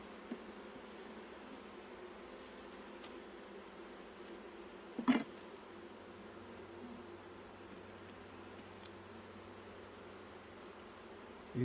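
Honey bees hum in an opened backyard hive during an inspection, a soft, continuous buzzing drone heard close by, with one brief louder knock or clunk midway and no voices.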